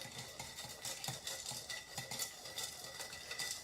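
A bar spoon stirs a cocktail in a mixing glass, a soft rapid clinking and swirling of ice that repeats steadily and fairly quietly, with no voices.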